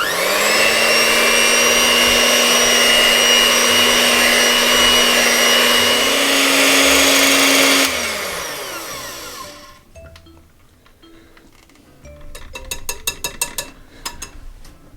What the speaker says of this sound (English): So I'm just going to give that a little bit more beating in.